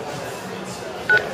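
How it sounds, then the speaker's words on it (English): A single short DTMF keypad tone sounds from the Line2 app on an iPhone speakerphone, a brief clear beep over a low background hum. "And then dialing is pretty straightforward."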